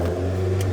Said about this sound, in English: It's idling really high right now.